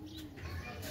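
A young pigeon of a Sialkoti cross breed gives a soft low coo, brief and close, over a faint background hum.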